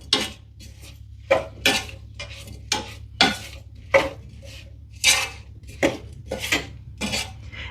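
A spoon stirs a pot of strawberries and sugar cooking on the stove, making a rhythmic series of close, distinct scrapes and clinks against the pot at roughly half-second intervals.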